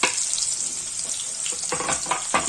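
Two sliced onions sizzle in hot oil in a pan over high flame for a Hyderabadi red chicken fry, a steady close hiss with a few louder crackles near the end.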